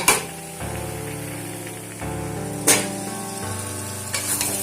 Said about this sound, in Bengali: এবারে ফুটতে দেব।